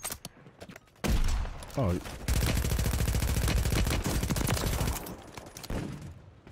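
Dense bursts of automatic gunfire in the video game Call of Duty Warzone, loud rapid volleys sustained for several seconds with brief pauses, while a voice speaks briefly.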